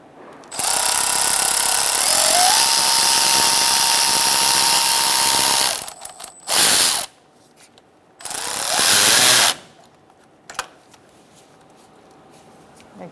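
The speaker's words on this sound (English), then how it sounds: "Once you get your hose on, you're going to tighten your clamp." A power tool tightening a hose clamp on the AC condenser hose of a 2004-2009 Mazda 3, running in a long loud whirring burst, then several shorter bursts separated by quiet gaps, close by.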